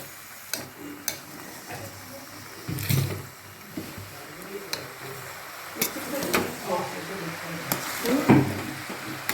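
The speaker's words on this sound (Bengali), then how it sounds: "এটা সুন্দর করে নেড়ে বয়েল করে নেবে" Mixed vegetable curry (labra) with green peas being stirred in a pan, with steady frying sizzle and scattered spoon scrapes and clinks close by, growing busier toward the end.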